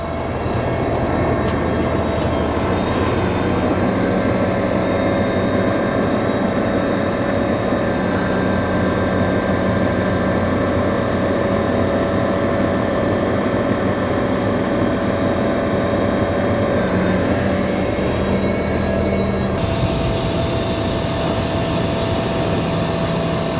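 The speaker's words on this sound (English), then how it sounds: "At this point, Firefighter Visnot is going to raise the ladder." A fire truck engine running while its 75-foot aerial ladder is raised, a loud, steady drone with a whining tonal hum that holds throughout and shifts slightly near the end.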